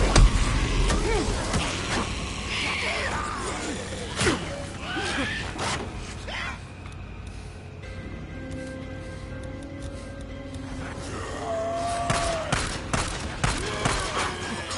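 Gunfire in the video game Days Gone: several sharp shots cracking early, then sporadic blasts amid engine and ambient game noise, with a horse whinnying and talk at times.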